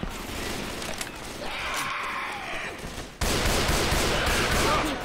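Gunfire in the Top Gun video game: dense bursts of shots, a quieter stretch, then a loud sustained volley in the second half, close and continuous with no talk.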